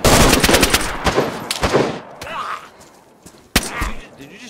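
Loud bursts of machine-gun fire in a zombie shooter video game crackle in rapid clusters, then thin out into scattered single shots with a sharp crack near the end, over quieter game noise.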